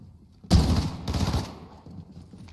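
A sharp gunshot blast cracks out loud and close, followed by a second burst of fire, then a fading rumble of echoing reverb.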